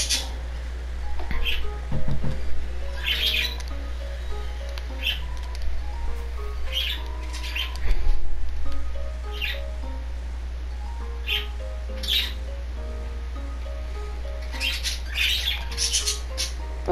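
Scattered small bird chirps and tweets come and go over a steady low fan hum, with a few louder bursts of chatter.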